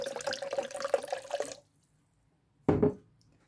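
Water runs from a tap into a blender pot for a rinse, a steady splashing stream for about a second and a half, then a brief louder burst of running water after a pause.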